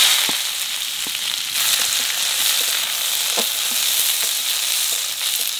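Cumin, nigella seeds and onions dropped into hot oil before frying prawns, producing a steady, close hissing sizzle with a few faint taps and crackles scattered through it.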